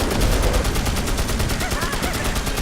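Rapid spell fire in the Magicka co-op game, a fast, even stream of sharp repeated blasts like machine-gun fire, loud and close, with brief voices over it.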